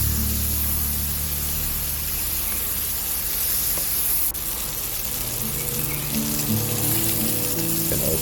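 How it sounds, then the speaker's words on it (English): Onions cooking in a pan, with a continuous loud frying hiss and occasional scraping as they are stirred, heard alone without talk. "Add your onions, give them a stir and cook them until soft."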